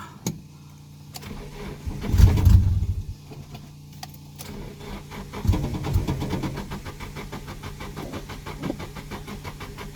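A Nissan S14 240SX engine cranks in two rough bursts a few seconds apart. A steady, rhythmic mechanical ticking follows and carries on to the end, heard close with no talking.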